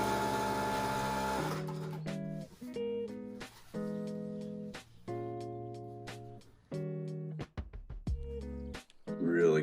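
A Juki DDL-8000A industrial sewing machine, a dry-head model with auto presser foot lifter, stitches in a series of short runs with a steady motor whir, separated by pauses and mechanical clicks.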